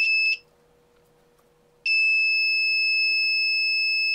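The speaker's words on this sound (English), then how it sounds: "I'm connecting the negative to the negative and then this positive to the buzzer" A small electronic buzzer powered from an ESP32 circuit gives a short high beep, goes quiet, then sounds a loud, steady continuous tone close by.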